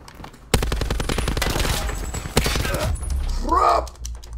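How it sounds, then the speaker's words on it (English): Rapid automatic gunfire rattles in a Call of Duty: Modern Warfare match, a dense burst of shots followed by a second volley, with talking over the top. "Hear gunfire."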